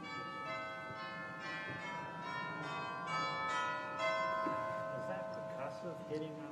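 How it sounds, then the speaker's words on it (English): Zimbelstern chimes on a Casavant pipe organ, left over from a 1926 organ, with a striker hitting tubes: bright bell tones ring over sustained organ notes, moderately loud and continuous throughout. "Zimbelstern chimes. We have the chimes."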